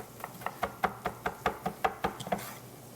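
Italian parsley chopped with a knife on a cutting board: about a dozen crisp, evenly spaced chops in quick rhythm, close and clear, with no talking.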